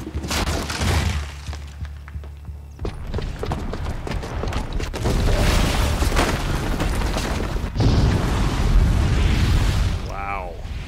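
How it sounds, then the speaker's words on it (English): A bomb explodes in the video game Horizon Zero Dawn with heavy rumbling booms and debris, layered over game sound and a voice talking. "the booby trap on the bomb downstairs is gonna get set off"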